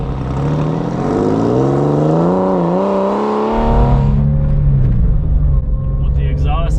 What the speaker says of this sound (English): once it gets going and you rev it up, you can hear that Fister exhaust put in first